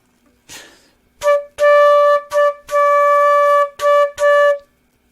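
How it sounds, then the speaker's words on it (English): Solo flute plays a syncopated practice exercise from a band method book, sustained bright tones broken into short and long notes with crisp gaps, close and clear with no talking. "I'm just picking a flute because it's the easiest thing for me to pick up and demonstrate right now."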